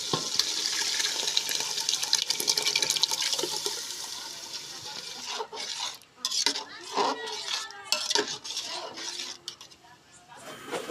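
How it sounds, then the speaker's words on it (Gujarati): Boiled lentils poured into a pan for dal tadka, a wet splashing pour followed by clattering stirring against the metal pan, close and fairly loud; no voices. "તો હવે આપણે આમાં બાફેલી દાળ નાખી દઈશું."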